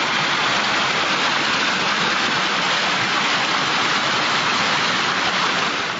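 Rushing floodwater from a huaico (mudslide) in an upper area during El Niño heavy flows, a loud, steady, dense roar of churning water throughout with no pauses.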